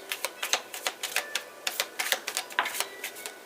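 Tarot cards being shuffled in quick bursts of crisp, rapid riffling clicks, a dense run of sharp snaps repeating close to the microphone.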